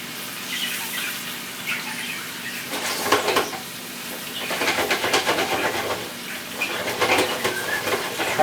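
Quail in a whisky sauce stirred around a hot pan, giving a steady wet sizzle and bubbling with swells of louder frying and scraping, close and continuous with no talk.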